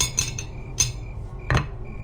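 Kitchen utensils and metal dishes clink in a dark, quiet room for a horror story, with three separate sharp chinks of metal striking metal, each one dying away into faint background hum.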